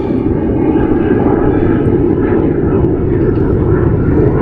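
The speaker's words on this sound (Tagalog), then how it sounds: "Kaya maririnig yung maingay. Jet fighter po yun." Taiwanese jet fighters, two of them, passing overhead out of sight, giving a loud, steady broadband engine roar that holds evenly throughout without breaks.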